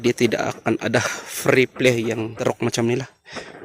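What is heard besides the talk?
None of the usual background noises is heard.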